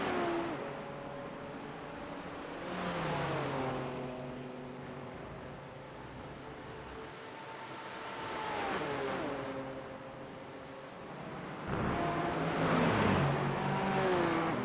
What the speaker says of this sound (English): 2 Porsches headed down the back straight